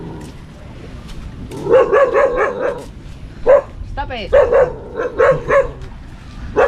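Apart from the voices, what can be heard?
dog barking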